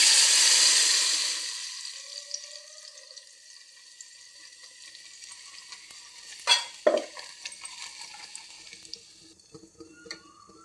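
Ground tomato, ginger, garlic and dry chilli paste drops into hot oil with a loud, bright sizzle that fades to a steady low fry. A few sharp spoon-and-pan clatters follow near the end, with no voices.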